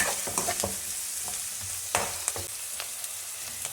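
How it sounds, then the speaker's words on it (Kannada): Onion and curry leaves fry in oil for tomato rice, producing a dense close sizzle with repeated scraping stir strokes and small crackles. "ನೆಕ್ಸ್ಟ್ ಈರುಳ್ಳಿ, ಕರಿಬೇವು ಹಾಕಿ ಫ್ರೈ ಮಾಡ್ಕೊಳ್ಳಿ."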